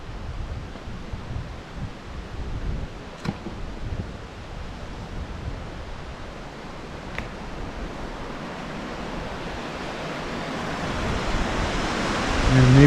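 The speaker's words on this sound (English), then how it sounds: "that's the sound of the ʻīao River." The ʻĪao River on Maui, Hawaii rushes steadily with broadband water noise, swelling slightly louder toward the end, with faint wind.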